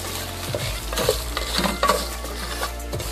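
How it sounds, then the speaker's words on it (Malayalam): Ada rice flakes fry in hot ghee for Onam palada payasam, a steady close sizzle with scraping stirs against the pan and a few light utensil knocks throughout. "നമുക്ക് നെയ്യിലേക്ക് അടയിട്ട് ഒന്ന് വറുക്കാം"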